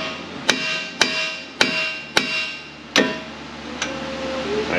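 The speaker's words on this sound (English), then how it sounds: "Hammer time." Five sharp metallic hammer strikes on a 2007 Ford Escape's damaged steering ball joint ring out at a steady pace, each clang decaying briefly before the next, with a faint lighter tap near the end.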